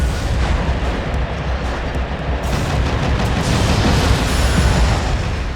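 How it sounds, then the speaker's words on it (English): A power missile explodes in the vehicular combat game Twisted Metal: Black, heard as a loud, sustained, rumbling blast roar that fills the whole stretch with dense low booming and no speech. "Just missed with a power missile."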